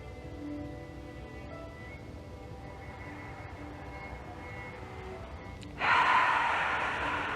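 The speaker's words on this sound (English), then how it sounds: "Take 3 more breaths, yogis." Slow, deep breathing during a yoga class, soft and quiet at first, then a loud rushing exhale near the end, with no talking.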